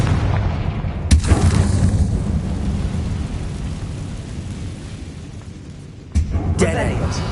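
A Confringo spell blast in Hogwarts Legacy, a deep rumbling boom that opens with a sharp crack and is followed by a second crack near the end, heavy low-end roar between them and no speech heard.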